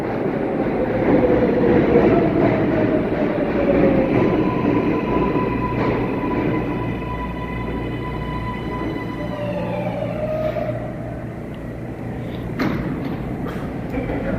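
A northbound New York L subway train rumbles and grinds along the tracks, with metallic squeals and a thud; a faint voice comes through in the background.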